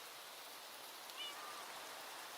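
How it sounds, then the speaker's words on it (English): Rain falling in Minecraft makes a steady, faint, hissing wash with no distinct drops and no talking, with only a few brief chirp-like tones passing over it. "I hate rain in Minecraft."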